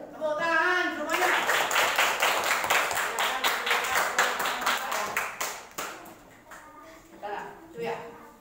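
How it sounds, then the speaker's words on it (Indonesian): Children in an elementary school classroom clap together in a burst of roughly five seconds of fast, fairly close claps, with an adult voice speaking before and after. "Tepuk tangan semuanya."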